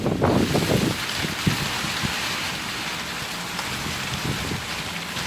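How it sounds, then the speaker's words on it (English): A Queensland rainstorm moves in, with a steady hiss of rain falling on surfaces and gusts of wind buffeting the microphone, a few low thumps early on. "The rain's washing my way."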